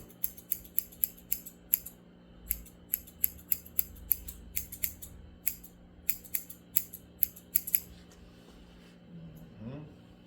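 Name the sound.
scissors cutting beard hair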